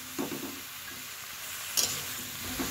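Potato and cauliflower fry in mustard oil with turmeric, salt and sugar, a steady sizzle joined by scraping stirs at the start, near 1.8 seconds and again at the end.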